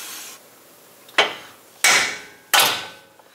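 Three sharp metallic hammer strikes on an old pinion nut during a Jeep Wrangler axle gear install, spaced less than a second apart, each ringing briefly before fading, loud and close.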